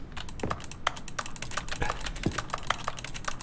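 Computer keyboard typing in the game The Stanley Parable Ultra Deluxe: a steady run of quick, close key clicks with uneven rhythm and a few heavier taps. Alone, with no talk.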